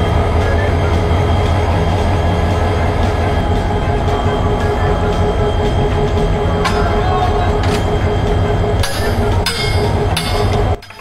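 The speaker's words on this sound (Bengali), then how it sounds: "এটি বাংলাদেশের সবথেকে বড় rail station, Kamalapur railway station." A train at Kamalapur railway station in Dhaka, a loud continuous rumble of rolling rail cars with droning hum, a few metallic clanks and squeals near the end before the noise drops away abruptly.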